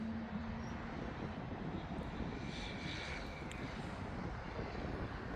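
An Embraer Phenom 300 business jet departs East Midlands Airport, its steady engine roar spread broadly and heard from a distance with a faint rising whine, alone and without voices.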